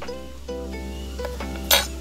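A few light metallic clinks of a metal spoon ring out, with a sharper, brighter clink near the end, over a low steady hum.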